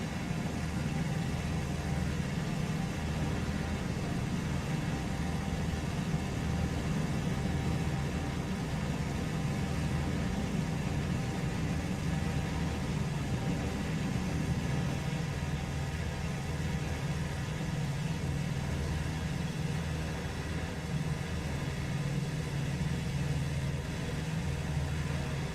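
Engine rumble from a WWII-era fighter or bomber in a 1941 flight-sim campaign, Spitfire or Wellington, running steady and loud for the whole stretch with a low droning hum and no talk.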